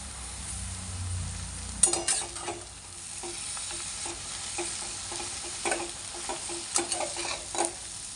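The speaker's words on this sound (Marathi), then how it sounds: "आपण त्या जे आपण फोडणी दिलेली होती त्याच्यात आपण ही आता पालक टाकून घेत आहोत" Chopped spinach fries in hot tempering in a pan with a steady sizzle, while a utensil stirs it with repeated scrapes and light clinks against the metal, close up and without talk.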